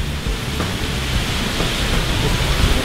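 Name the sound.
heavy rain downpour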